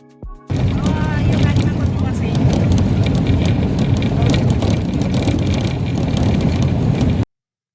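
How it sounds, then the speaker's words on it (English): An old bus on a rough road in Nepal rattles and clatters loudly throughout, engine droning beneath constant jolting knocks and shaking panels, recorded from inside for several seconds before stopping abruptly. "Every damn part of the bus was rattling."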